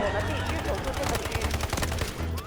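Rapid bursts of gunfire in the video game Delta Force, loud and close, come in quick volleys over a steady low rumble while a player talks.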